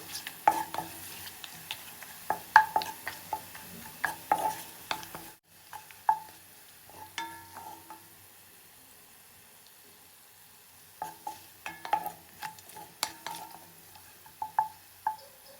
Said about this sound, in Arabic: وبعدين بنقلب البصل مع البهارات الصحيحة حتى يصير لون البصل بني فاتح